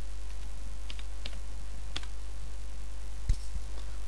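A single computer keyboard key, the space bar, pressed during word-processor work, giving a faint click near the middle and another sharper click later over a steady low hum.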